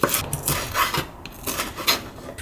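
A knife slicing through mushrooms on a board for bulgogi hot pot, several close scraping cuts in an uneven rhythm.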